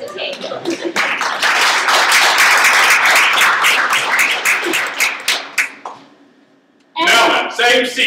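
Hands clap together in a quick, dense burst of sharp slaps during an improv session, close and loud, then stop briefly before another short round of clapping begins.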